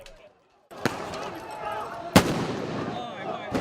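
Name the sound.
firecrackers and stun grenades exploding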